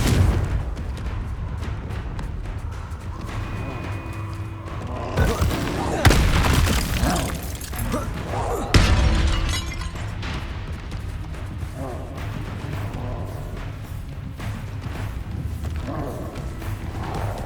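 Bombarda and Confringo spell explosions in Hogwarts Legacy go off as sharp booming blasts, two strong hits standing out amid ongoing game noise and a speaking voice.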